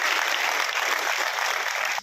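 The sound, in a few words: audience applause welcoming police officials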